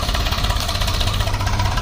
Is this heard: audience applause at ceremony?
no